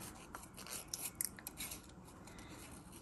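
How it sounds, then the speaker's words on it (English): Scissors snip slowly through paper during fussy cutting for specimen cards, a series of soft, close, crisp cuts with light rustling between them and no talk. "I really don't move my scissors. I mainly move my paper, and that tends to be a good way for me, at least, to do fussy cutting."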